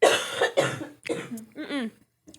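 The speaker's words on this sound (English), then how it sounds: "You cough like you've been smoking for like 46 years." A person gives several harsh, close coughs in quick succession, followed by a brief throaty vocal sound.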